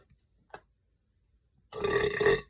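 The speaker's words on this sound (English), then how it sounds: "sorry, I had the burp." A short click, then after a pause a single low, drawn-out burp, fairly close and loud against near silence.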